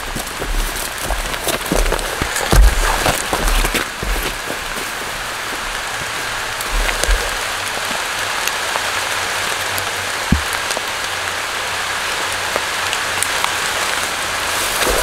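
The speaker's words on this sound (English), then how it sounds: "Really starting to rain here, agents." Steady rain pattering on surfaces outdoors near a beaver dam and game trail, a constant dense hiss of drops with a few louder close splats, no talking.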